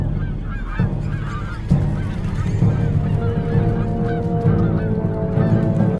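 A flock of birds honks continuously in the closing shot of the film Fatal Contact: Bird Flu in America, with overlapping loud goose-like calls over a low rumble and no speech.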